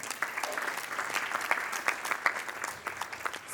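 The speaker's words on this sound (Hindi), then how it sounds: "टुकड़ी टीम के लिए एक बार जोरदार तालियां हो जाए।" A theatre audience gives a hearty round of applause for the team behind a stage play, brisk crowded clapping that stays full and steady from start to finish.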